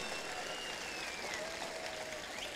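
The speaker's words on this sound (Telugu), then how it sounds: "బలమైన శబ్దం వచ్చి చప్పట్లు కొట్టి ప్రభువును స్తుతించాడు" A worshipping congregation claps to praise the Lord, a continuous wash of many hands applauding at an even level, with faint thin tones running over the crowd noise.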